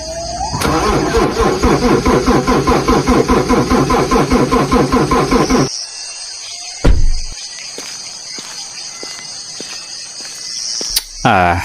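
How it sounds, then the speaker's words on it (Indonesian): A car engine with a leaking fuel tank cranks loudly for about five seconds in a fast, rhythmic churn without catching. It then stops, leaving a quiet hum and a sharp click. "Mesin cuma bunyi tapi nggak mau nyala."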